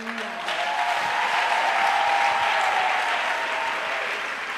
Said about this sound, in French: Give the Lord a clap and praise the Lord.